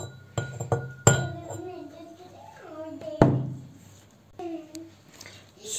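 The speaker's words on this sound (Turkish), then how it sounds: "Sütümün içerisine karıştırıyorum" A spoon clinks against a glass while crushed ingredients are stirred into milk, giving a few sharp taps and light scraping, with someone speaking softly throughout.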